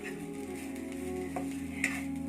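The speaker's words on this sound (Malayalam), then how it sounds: "ഇതൊന്ന് നല്ലപോലെ ഒന്ന് നമുക്ക് വറുത്തെടുക്കണം" Grated coconut, half a small coconut, fries in a pan as a curry base, giving a steady low sizzle with occasional soft stirring scrapes and a brief clink near the end.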